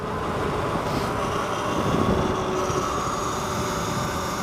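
A Talaria R MX4 electric supermoto bike at full throttle, a loud sustained whine and road roar that holds steady throughout.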